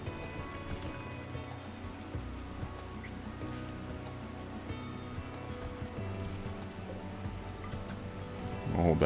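Steady patter of rain in Rimworld, a soft, even wash of drops with faint musical tones underneath and a brief swell near the end.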